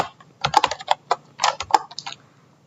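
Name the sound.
typing a Python print statement on a computer keyboard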